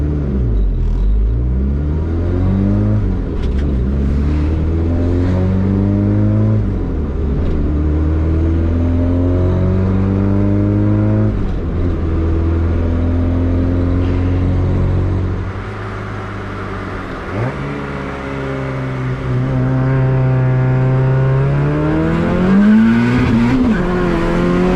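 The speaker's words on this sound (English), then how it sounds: "It actually pops more at partial throttle when you ramp it up and you keep it like partial throttle." A turbocharged Suzuki Vitara engine revs hard through several rising and falling sweeps, loud and close, with crackling exhaust pops between pulls and a brief quieter pause midway.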